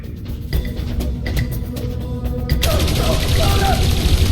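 Gunfire rings out in the video game Dreamfall Chapters as guards shoot a fleeing runner, sharp shots crackling over a game score before a denser, louder burst of noise takes over.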